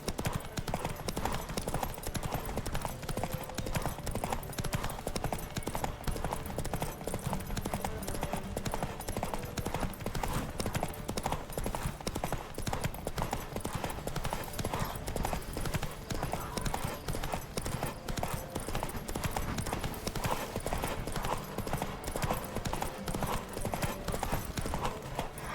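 Steady, rapid clip-clop of hooves at a gallop during a horse race in The Witcher 3, continuous and close, with an occasional faint whinny and a voice shouting now and then.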